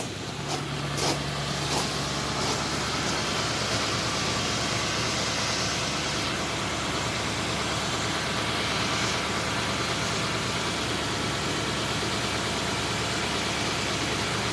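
A Lexus LS400 engine idles smoothly after an ECU repair, a steady, even low hum and whirr running without change for the whole stretch, with a couple of brief clicks near the start and no talking.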